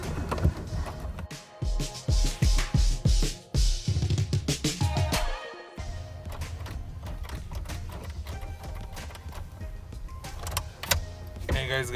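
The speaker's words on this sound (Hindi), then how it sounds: "तो गाइस अभी जेन को स्टार्ट करके देखेंगे हम." A Maruti Zen's starter motor cranks in a rapid series of strained, uneven bursts without the engine catching, then whirring mechanical noise continues at close range.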